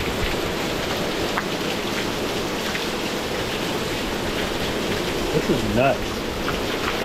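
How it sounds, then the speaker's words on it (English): Steady heavy rain pours down in a flooded backyard, a dense continuous hiss throughout, with a person talking briefly over it near the end. "So we got a little bit of rain going on right now."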